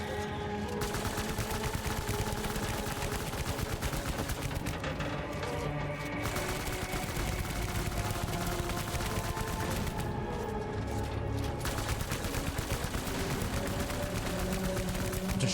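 Continuous loud gunfire in Death Stranding, shooting at an enemy in dense, sustained volleys with rattling impacts and no talk.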